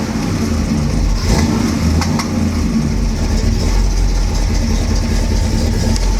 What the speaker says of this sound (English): Rev it up a little bit for you.